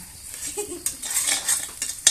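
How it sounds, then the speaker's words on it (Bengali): Onions sizzle as they are stirred in an iron wok over a clay stove, with scraping and clinking strokes at irregular intervals over a steady frying hiss. "আমার পেঁয়াজটা ভাজা হয়ে গেছে"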